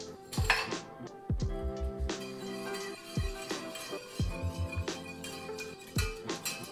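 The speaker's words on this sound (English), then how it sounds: "And now I'm gonna whisk that all together." Whisking a lemon butter sauce with garlic in a hot skillet, heard as repeated metallic clinks and rings of a whisk striking the pan, fairly close and moderately loud, with no speech over them.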